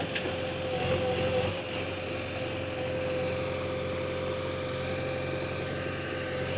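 A JCB 3DX backhoe loader engine runs steadily at a constant drone with a fixed tonal hum, loud and close, with slight roughness early on and no talk.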